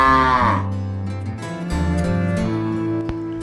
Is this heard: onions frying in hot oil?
no